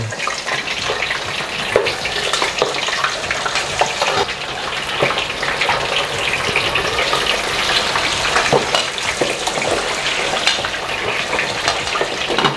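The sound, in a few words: pork slab frying in hot oil for bagnet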